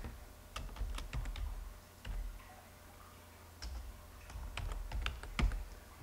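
Typing on a computer keyboard while renaming an object in 3D modeling software, a quiet, irregular run of close key clicks in short bursts with brief pauses between.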